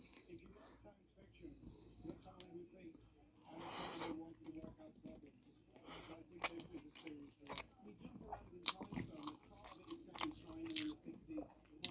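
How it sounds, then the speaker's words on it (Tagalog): Someone eats rice mixed with menudo, with soft close chewing, biting and crunching sounds scattered through a quiet background, under occasional speech. "Kasagsagan ng subo na ganito, sarap-sarap mga halo ng kanin at ulam"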